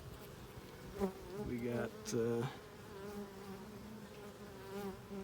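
Honey bees buzz steadily around an opened hive during a fall beehive inspection, a close droning hum with a few louder passes near the microphone and a short spoken phrase at the start.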